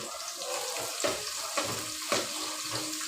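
Pickle masala frying in a pan, a soft steady sizzle with occasional stirring scrapes and bumps, fairly quiet and close, no voices.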